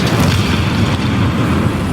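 A tank cannon shot striking in War Thunder, with a US M2A4 light tank in play: a dense, continuous low boom and rumble with no distinct transients, steady and loud throughout and no speech.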